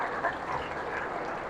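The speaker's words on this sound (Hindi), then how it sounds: "जोरदार ताली बजा दो एक बार" A seated audience at an SC/ST federation gathering in India claps steadily, a dense continuous patter of many hands that stays at an even level from start to finish.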